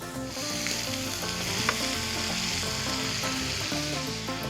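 Steak sizzles steadily in a pan with melting truffle butter, a loud continuous frying hiss with bubbling crackle running throughout, close and without voices.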